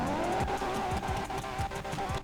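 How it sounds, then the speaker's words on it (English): Elegy RH8 sports car engine revving in GTA 5, a loud, steady, buzzing high-rev drone with quick repeated throttle blips and dips, heard close and alone without talk. "select the Elegy RH8 and then start revving it"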